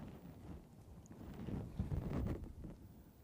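Wind buffeting an outdoor microphone at a horse racing live stream on a rainy day, a low, faint rumbling gust that swells in the middle and then eases, with no voices over it.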